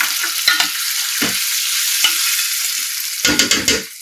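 Chopped tomatoes drop into onions already frying in a pan and are stirred, giving a steady close sizzle broken by several soft knocks and scrapes of the spoon against the pan.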